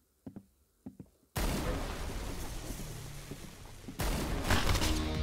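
Sustained burst of gunfire from the Roblox shooter game Arsenal, loud and continuous after a couple of short opening thumps, then swelling louder near the end.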